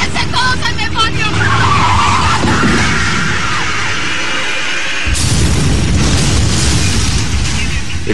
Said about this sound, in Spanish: El auto que estaba manejando su esposa se salió de la carretera, hizo explosión y se incendió.